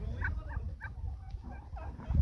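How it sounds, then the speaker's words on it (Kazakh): Chickens cluck and chatter in short repeated calls over a low, steady rumble in the background. "Тауықтар осы жақта жүр."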